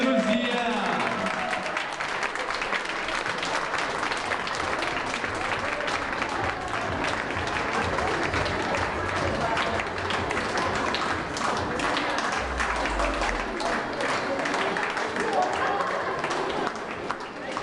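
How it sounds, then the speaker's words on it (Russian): A crowd at a 20th anniversary celebration of a children's social rehabilitation center applauds steadily for the whole stretch, with a few taps and footsteps mixed in and voices heard underneath the clapping. "Аплодисменты, друзья!"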